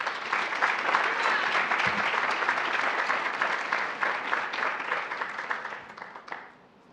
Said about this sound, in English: Please give a round of applause for Kira McQuillan